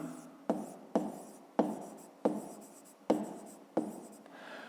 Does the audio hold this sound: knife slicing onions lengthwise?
no